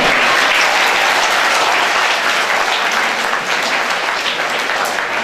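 School audience giving a sustained burst of applause, dense and loud throughout, many hands clapping at once with no talk over it.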